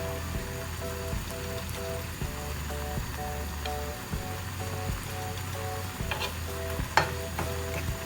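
Apple chutney cooks in a pan on low heat as ginger goes in, with a faint continuous sizzle and bubbling, a few soft clinks and scrapes, and music playing underneath.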